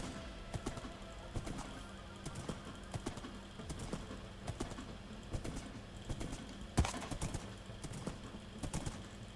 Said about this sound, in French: J'ai le cheval qui se cabre.